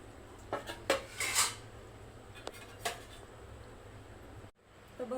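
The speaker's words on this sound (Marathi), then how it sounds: "आता मी प्लेटमध्ये बघा ही भाजी काढते" Cooked karela bhaji served from a pan onto a plate in a home kitchen, with a few sharp metal clinks of utensil against pan and plate, close and moderately loud over a quiet room hum.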